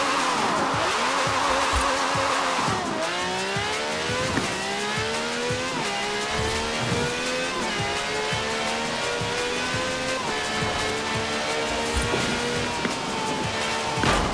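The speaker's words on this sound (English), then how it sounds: "This has a V12 with over 750 horsepower, plus bucket seats." V12 car with over 750 horsepower racing in Forza Horizon 4: a loud, continuous engine roar that climbs through repeated gear shifts, with tire squeal throughout and no talk.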